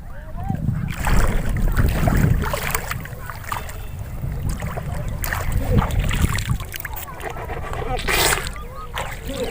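A motorboat engine drones as a constant low rumble on a river, with wind and splashing water, while people talk over it throughout.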